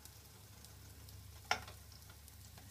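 Cinnamon plantain slices frying in a pan, browning on the first side, give a soft steady sizzle throughout, with one brief sharp clink of a fork near the middle.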